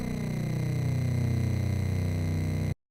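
A synthesized FM bass drones loud and steady with bright, buzzy upper harmonics whose pitch gradually bends upward over about three seconds, then cuts to silence.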